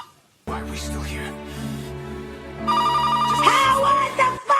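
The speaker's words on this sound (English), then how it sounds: "the phone is ringing!" A telephone rings loudly and close, its ringtone sustained with a steady, tonal warble that grows brighter partway through.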